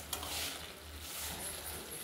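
Thin-cut radish with coriander leaves being stirred in a pan, a soft sizzle with a brief scrape of the spatula, close but quiet, and no talking.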